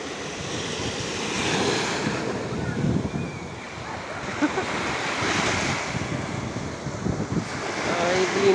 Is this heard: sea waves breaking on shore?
yes